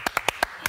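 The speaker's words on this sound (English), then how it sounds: "Round of applause for Joel" A few people clap in a small room during a football discussion show, five sparse, distinct claps in quick succession, fairly close and quiet.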